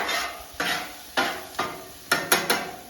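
Peppers and onions pushed across a hot flat-top griddle with a metal spatula, heard as several sharp scraping swipes over a soft sizzle, close by, with no talking.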